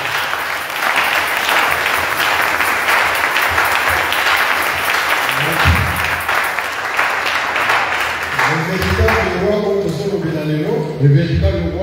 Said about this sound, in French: Acclamez d'abord le Seigneur.